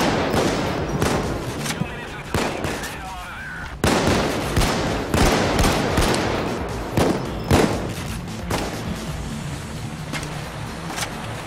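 Gunfire during a heist in the video game Payday 2, with repeated loud bursts and single shots in quick irregular succession across the whole stretch, and voices heard under the shooting.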